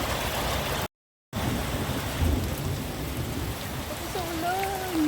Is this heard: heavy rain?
yes